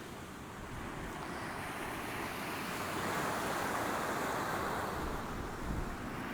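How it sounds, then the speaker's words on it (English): Waves crash steadily on a Gulf Coast shore, a broad continuous roar of surf mixed with wind buffeting the microphone, building slightly toward the middle with no voices. "And today we've got some crashing waves."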